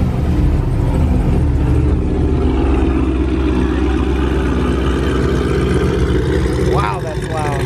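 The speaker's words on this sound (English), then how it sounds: "Got a Camaro chopping coming through." A Chevrolet Camaro with a choppy idle rolls through a crowded car meet, its loud, deep exhaust rumbling steadily up close, with a brief chirping sound near the end.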